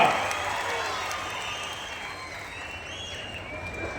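A big outdoor crowd at a political rally in Banaganapalle claps and cheers in a sustained wash of applause with a faint amplified voice underneath.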